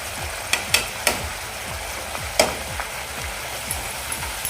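Ground spices (coriander, red chilli, turmeric, garam masala) frying in a pan for restaurant-style chana masala, a loud crackling sizzle broken by repeated sharp scrapes and clanks of the stirring spoon, with no voices.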